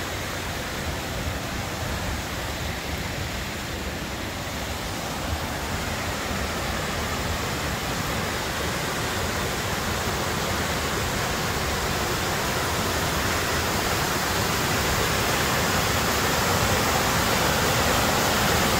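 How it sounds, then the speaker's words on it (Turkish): Waterfall at the foot of the Kaz Mountains, a steady, dense broadband rush of falling water heard close and continuous without any speech. "Şelaleye doğru geliyoruz şimdi."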